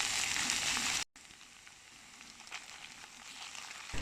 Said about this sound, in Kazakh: Етімізді салып қайта аламыз, араластырып қуырамыз.